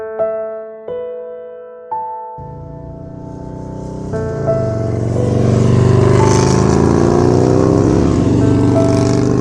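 A car starts up after a few tonal electronic beeps, and its engine swells into a loud, rising roar as it drives off nearby.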